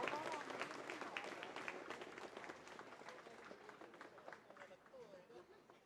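Audience applause at a recognition ceremony, a broad wash of many hands clapping, fairly distant and steady, fading slightly over several seconds with murmured voices underneath.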